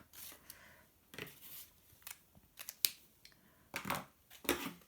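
Scissors snip through two layers of DSP patterned paper at once in a series of crisp, irregular cuts, close and quiet, with no talking.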